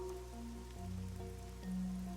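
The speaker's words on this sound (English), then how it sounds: "The rain, it never stops." Steady rain in the video game Raincode hisses faintly and continuously under sustained musical tones, with no speech.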